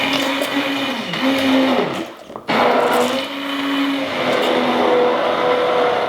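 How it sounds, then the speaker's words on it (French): A hand blender whirs through split pea soup, a loud close motor whine that wavers in pitch as it churns, cuts out briefly partway through, then starts again and runs on steadily, with no voices. "je prends mon mixeur et là, hop."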